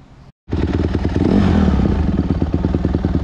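A Honda CRF150 motorcycle engine starts up abruptly after a brief pause and runs steadily while ridden, close and loud, with a rapid pulsing putter that holds throughout.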